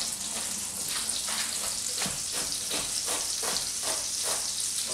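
Finely chopped onion sizzling in a pan of butter with a little olive oil, a steady close hiss and crackle with soft rhythmic stirring strokes, no voices.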